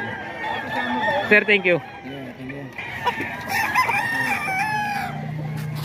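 A rooster crows loudly nearby among other chickens being sold, with clucking around it and someone speaking briefly over the birds.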